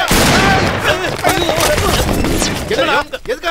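Gunfire in a comedy film scene, a rapid burst of loud shots filling the whole moment, with someone shouting over the volleys.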